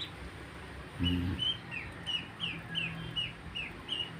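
Ducklings in a kitchen sink give a close run of thin, repeated peeping calls in a steady rhythm, with a brief knock of movement early on.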